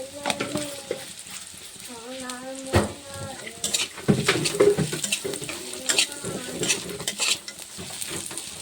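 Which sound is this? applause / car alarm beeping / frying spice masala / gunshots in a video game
frying spice masala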